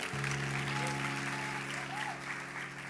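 A church congregation applauds during a worship service, a broad wash of clapping heard at a distance over a sustained organ or keyboard chord.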